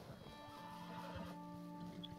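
A horse whinnies faintly in Red Dead Redemption 2 amid game ambience, with hoof-like thuds and a steady tonal background hum.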